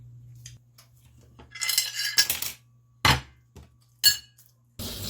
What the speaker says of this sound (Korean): 다 먹고 나는 바로 설거지를 하였다.